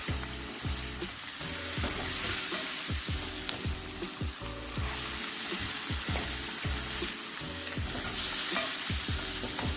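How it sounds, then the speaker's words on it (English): Crushed leftover pumpkin is stirred steadily in a pan for a curry, a spoon scraping in a repeating rhythm over a continuous close sizzle with no voices. "this requires a lot of stirring, as I said, because you don't want the pumpkin to burn"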